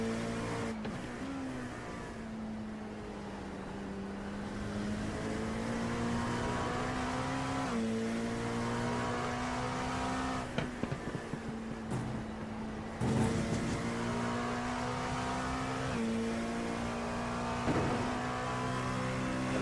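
Race car engine on track in a Le Mans racing game, a high sustained whine that rises and falls through repeated upshifts and downshifts, loud and close, with brief tyre noise.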